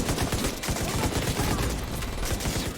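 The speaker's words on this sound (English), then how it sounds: "I'm getting shot full of holes like I'm fucking Swiss cheese" Heavy automatic gunfire from The Division 2 shooter game, a rapid, rattling stream of close shots pounding on without pause throughout.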